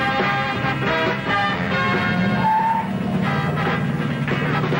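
A 1973 Buick GS 455 with front disc brakes stops hard from 30 mph, tires squealing in a sustained, wavering screech over a steady road rumble.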